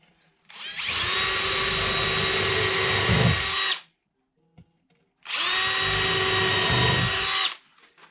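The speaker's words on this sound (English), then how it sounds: "Just adjust my drill bit." Power drill boring screw holes through a Kreg concealed hinge jig into a shed cabinet door, two long steady whining runs of about three seconds each separated by a short pause, loud and close with no talk.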